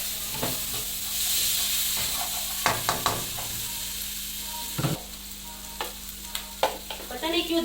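Pea nimona ingredients fry in a pan over low gas, with a soft steady sizzle and intermittent spoon scrapes and clanks against the pan, close and fairly quiet, with no talk.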